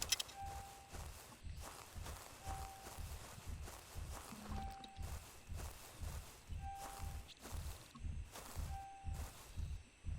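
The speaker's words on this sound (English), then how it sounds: "Okay, it's just a Triceratops coming. I was hearing the footsteps" Heavy, regular footfalls of a Triceratops approach through the game Prehistoric Hunt, a steady thudding stride with faint tonal beeps recurring over a quiet background.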